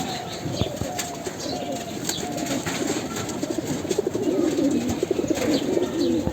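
Visiting stray pigeons fill a village loft, their soft throaty coos rolling one after another close by over a steady background hum, with occasional flapping wings.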